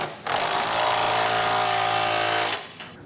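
An impact power tool tightens trailer hitch receiver bolts on a 2016 Jeep Renegade, working through a side panel in one loud, continuous buzzing burst of about two seconds that stops abruptly.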